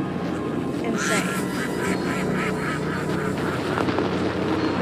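Ducks quacking in the horror video game Anatidaephobia, a dense chorus of calls layered over a constant loud game backdrop with a player talking throughout.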